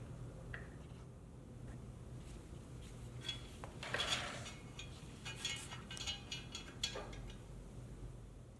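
Metal exhaust parts, a mid-pipe and header tube, being loosely fitted together on a 2022 Honda Grom RR, giving scattered light clinks and scraping metallic knocks, faint and close in a quiet room.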